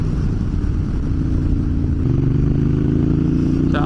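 A motorcycle rides along a road through a nature reserve, its engine a steady, close rumble with clattering texture that swells slightly as it picks up revs, with no talk over it.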